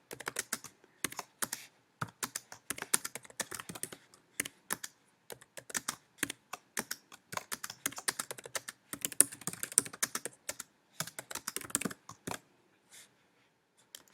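Computer keyboard keys clatter in quick irregular bursts while code is typed, close and fairly quiet, with short pauses between runs and no talking.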